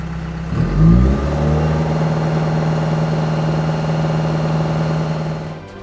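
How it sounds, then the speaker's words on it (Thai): A Komatsu D39EX bulldozer diesel engine swells briefly, then drops back as the pedal lowers the revs, settling into a loud, steady, close droning hum that holds with little change. "เหยียบเพื่อลดรอบเครื่องยนต์"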